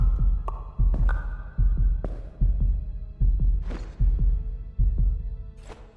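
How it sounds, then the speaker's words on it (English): A steady thumping heartbeat from the video game Fell & Sell pulses low and heavy in a regular double-beat rhythm, close and prominent, with faint game sounds and occasional clicks on top. "just get rid of the heartbeat noise"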